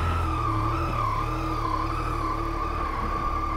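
A Yamaha FZ-09 motorcycle engine runs steadily nearby with a thin, buzzy whine over a low rumble, holding an even idle with slight pitch wobble.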